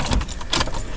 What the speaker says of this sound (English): So I put the ignition on, turn it up, and it turns on.